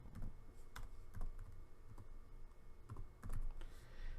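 Typing on a computer keyboard while filling in a WordPress contact form, with quiet, irregular key clicks in small clusters and no talk.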